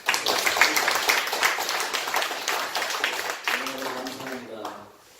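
Applause from a church congregation honoring a missionary, a dense broadband patter of many hands clapping steadily throughout, with some voices mixed in, fading near the end.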